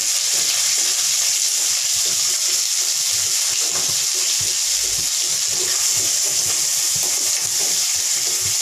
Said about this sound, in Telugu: దీంట్లో కట్ చేసి పెట్టుకున్న ఉల్లిపాయలు వేసేద్దామండి.